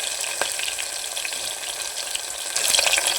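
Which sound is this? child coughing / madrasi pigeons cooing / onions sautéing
onions sautéing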